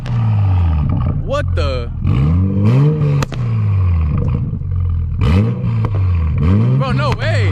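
A Toyota Supra MK5 with a burble tune revs loudly and close by in a sustained roar, with excited voices talking over it throughout.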